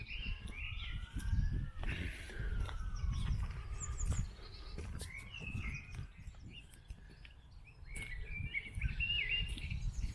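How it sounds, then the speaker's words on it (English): Several birds sing and chirp in varied phrases over a low outdoor rumble in spring countryside, with scattered calls throughout. "I hope you're picking up on that bird song"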